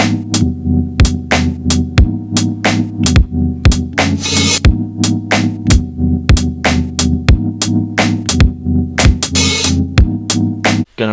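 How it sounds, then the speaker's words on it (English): A steady, laid-back lofi hip hop drum loop with a deep thumping kick, snappy snare and loose, washy open hi-hats over a low, humming bass tone. "did a different sort of open hi-hat sound"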